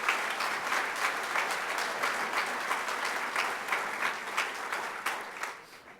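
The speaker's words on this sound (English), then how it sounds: "Let's give them one more round of applause." Sustained audience applause at a Nobel Conference, a dense steady patter of many hands filling the hall for the full stretch, fading slightly at the very end.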